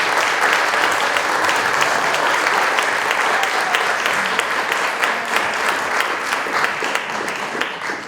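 Sustained applause from an audience at an elementary school honor society induction ceremony, steady and dense clapping filling the room for the whole stretch with no break.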